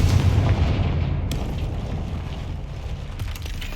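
A Confringo spell explodes in Hogwarts Legacy as a heavy, booming blast. Its deep rumble fills the moment and slowly fades, with a few sharp crackles on top.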